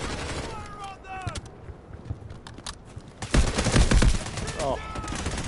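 Gunfire in the Delta Force video game, a burst of bursts growing louder around the middle and continuing to the end, mixed with game effects and distant voices.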